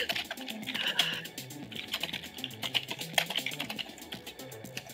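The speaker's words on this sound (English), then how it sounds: "We're all typing." Several people type on computer keyboards at once, in the manner of an old newsroom, a dense rapid patter of key clicks filling the room at moderate volume with no talk.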